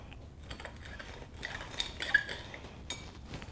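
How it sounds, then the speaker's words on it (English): A knife cuts through sourdough toast, giving a run of soft, close scraping and crunching taps with a few light clinks against the plate. "I'm gonna cut this in half and do half with just butter."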